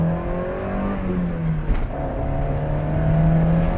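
A 90s Honda Civic engine revs hard in first gear into VTEC, a rising, strained engine note heard from inside the car, close and loud, climbing steadily over a few seconds.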